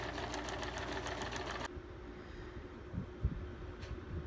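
A sewing machine runs steadily on a window treatment seam with a fast regular stitching rhythm, then stops abruptly, leaving quiet room tone with a couple of soft bumps.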